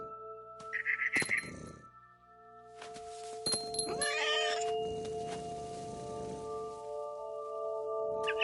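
A cat in a video game lets out a loud, drawn-out meow like a caterwaul, preceded by a few short chirpy calls and light clinking game sounds, with no talking.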